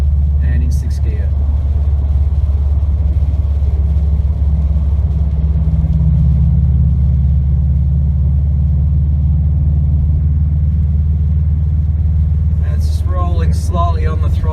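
A 2017 Subaru WRX STI fitted with an Invidia R400 cat-back exhaust cruises in sixth gear at highway speed, giving a steady, loud low drone and rumble throughout, with brief speech near the start and end.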